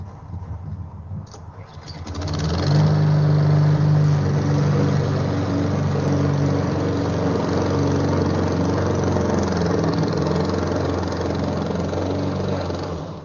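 A leading gas-powered competitor lawn mower cuts grass. After a quieter start, its engine rises into a loud, steady close drone that holds to the end, with faint birdsong in the background.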